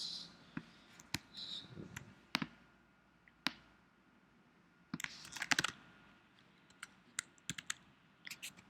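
Sparse typing on a computer keyboard: scattered single key clicks and short quick clusters with quiet gaps between them, close but faint.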